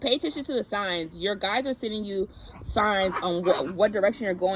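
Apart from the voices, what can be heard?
dogs barking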